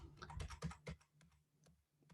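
Several soft keyboard keypresses, the up arrow tapped repeatedly while working at a computer terminal, come as a quick cluster of faint clicks followed by a couple of isolated taps, quiet and close.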